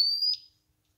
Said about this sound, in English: It's beeping, going crazy.